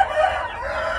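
A rooster crows loudly and up close, one sustained cock-a-doodle-doo filling the short moment with no talk over it.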